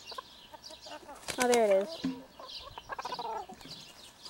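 Chickens cluck and squawk close by, a few sharp bursts mixed with a short spoken remark.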